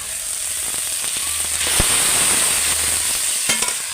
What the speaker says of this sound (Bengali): আদা রসুনের পেস্ট আর পেঁয়াজ ভালো করে আমার মিক্স হয়ে গিয়ে ভাজা ভাজা হয়ে গেছে এবার আমি যে মাংসটা ম্যাগনেট করে রেখেছিলাম ওইটা দিয়ে দেবো